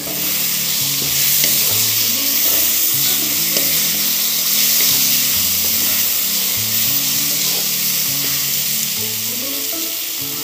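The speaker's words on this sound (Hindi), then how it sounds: "सारी चीज़ों को अच्छे से मिक्स कर लेंगे।" Jackfruit curry with tomatoes fries loudly in a pan as it is stirred, a continuous close sizzle and hiss with scraping movement and no talking.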